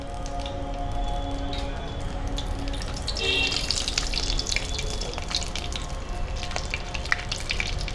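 Whole cinnamon sticks, small and large cardamom and cloves tempering in hot oil, a steady close hiss and soft crackle with faint spattering throughout.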